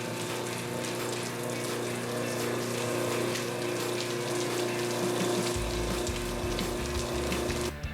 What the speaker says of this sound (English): now we're going to do the rinse stream test with knockoff number 2